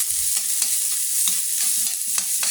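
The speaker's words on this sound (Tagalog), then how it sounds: "Igisa na tayo ng bawang." Garlic sautés in a pan for ginisang alamang. A loud, continuous sizzle fills the foreground, with light clatters from stirring and no voices.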